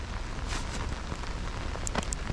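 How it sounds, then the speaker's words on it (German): Steady rain patters on a surface at a wintry riverside fishing spot, a dense continuous hiss with a few sharper nearby drops, heard alone with no talking. "Wie ihr seht, es regnet."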